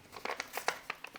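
A plastic packet of Vietnamese pho stock is torn open by hand in a kitchen, giving a run of sharp crinkles and rips close up, with no talk.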